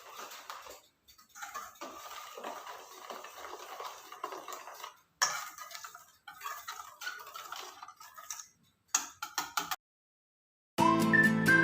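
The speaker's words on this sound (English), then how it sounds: "We're going to add in the oil now. And we're going to mix it." Oil is stirred into Oreo cake batter, a utensil clicking and scraping against a bowl in steady, quiet repeated strokes, broken by short pauses.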